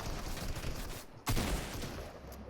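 Dense, continuous bursts of rapid gunfire from a Fortnite match, loud and sustained throughout, with a brief dropout midway before the shooting resumes just as hard.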